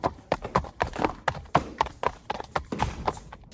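A horse's hooves clip-clop in a steady, brisk rhythm of close, crisp knocks, heard alone without speech.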